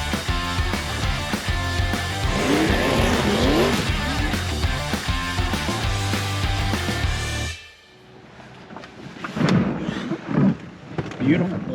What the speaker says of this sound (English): now we're gonna go for a test drive in that gorgeous 2009 Chevrolet Corvette